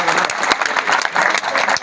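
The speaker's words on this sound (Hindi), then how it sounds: "एक बार तालियां बजाइए भाई सुरेंद्र राजवार के लिए" Audience applause at a National Safety Week award ceremony in Jamnagar: a dense, steady wash of many hands clapping, loud and continuous throughout.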